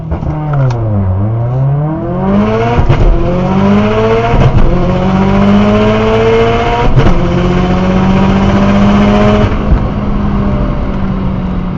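A 450 whp Subaru STI drag racing a Mercedes C63 AMG: loud engines rev and pull hard through rising gear sweeps with sharp shift breaks, roaring steadily close by without talk.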